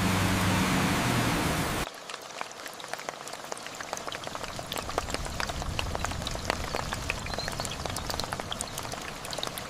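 Steady rain patters down densely on an RV and surfaces nearby at night, a continuous hiss of drops after a brief burst of broad noise at the start.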